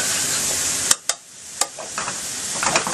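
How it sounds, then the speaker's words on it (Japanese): Onions frying in a pan for tomato sauce, a continuous bright sizzle broken by a few sharp scraping stirs and knocks of the utensil, close and loud. "玉ねぎ炒めるだけでも1時間ぐらいかかります。"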